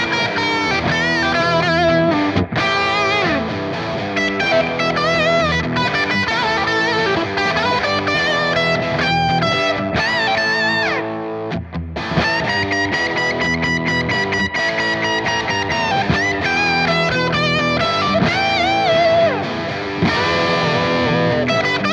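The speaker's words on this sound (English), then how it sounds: "Now, let's move on to room reverb." Electric guitar played through the room reverb of a TC Electronic Plethora X3 pedal, a continuous, dense, sustained passage of chords and notes with a lingering ambient tail and no talking.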